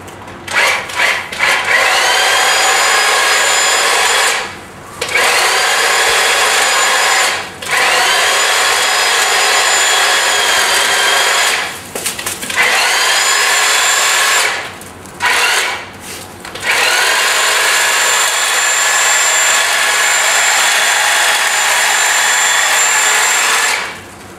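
A Ryobi hedge trimmer buzzes loudly and continuously while cutting a hedge, its steady whine broken by several brief pauses where the blades stop.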